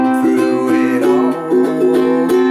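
A ukulele strums the chorus chords of a song, with bright rhythmic down-and-up strums ringing close and loud, changing chords every few beats.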